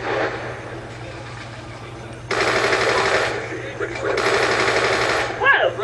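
The Dragonfire killstreak drone in Call of Duty Black Ops II fires in two sustained automatic bursts, loud and rapid over a steady game background hum, with a short gap between them.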